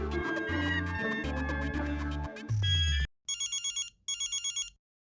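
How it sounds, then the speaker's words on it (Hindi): A telephone rings in two bursts of rapid electronic trills, following a loud stretch of music that cuts off abruptly. "भागा सेठ जी का फोन है।"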